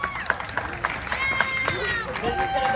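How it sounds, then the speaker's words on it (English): Audience clapping and cheering at a comedy show at Sawmill in Albuquerque, New Mexico as volunteers come on stage, a lively crowd with rhythmic clapping and excited voices and whoops throughout. "Give them a big round of applause."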